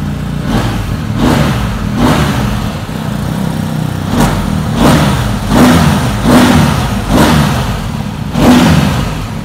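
Two motorcycle engines run together, a BMW R1250GS boxer twin and a Triumph Tiger 900 triple, revving in a loud, rough pattern of repeated throttle blips over a steady idle, close by and with no talking.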